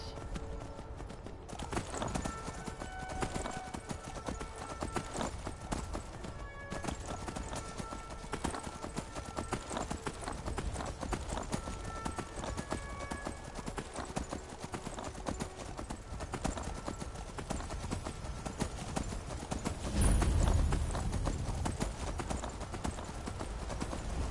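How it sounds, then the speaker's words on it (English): Horse hooves clip-clop steadily for the whole stretch while riding in Skyrim, a fantasy video game, with a continuous ambient bed beneath and a brief louder thump near the end. "So, I'm gonna grab our horse."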